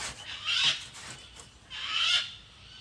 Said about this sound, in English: Probably a cocky or magpie